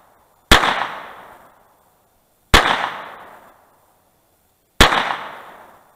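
Three sharp pistol shots at an outdoor target shooting session, each a loud, close crack with a decaying tail, spaced about two seconds apart.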